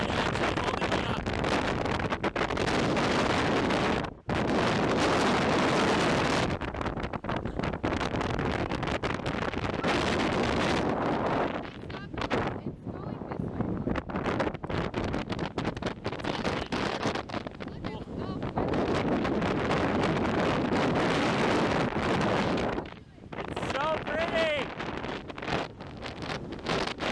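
Strong wind batters the microphone on a walk along the shore, loud roaring gusts that briefly drop out a few times, with faint surf underneath.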